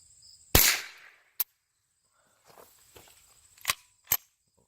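Ruger 10/22 rifle firing rounds at a target: one loud sharp crack followed by a decaying tail, then three more short sharp reports spaced out over a few seconds, with faint handling noise between.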